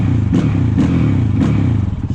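A Honda Grom small motorcycle engine revs up and down in quick surges, loud and close, with a rough mid-pitched exhaust note rising three times over a steady idle.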